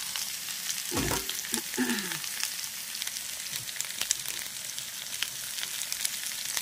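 Cut chilies and already fried potatoes sizzle in a pan for a stem, eggplant and potato tarkari. A steady close hiss of frying continues with a few brief clinks and squeaks near the start, and no one talks.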